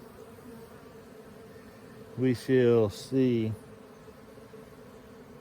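Around twenty scout bees buzz near a swarm trap in a low, steady hum, with a person speaking briefly over it midway.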